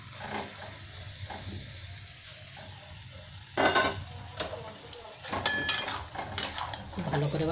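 Potatoes and pointed gourd being stirred into a spiced pan of frying masala for a Bengali prawn curry, with clinks and scrapes of a spatula against the pan, a couple of louder clatters, and a soft sizzle underneath.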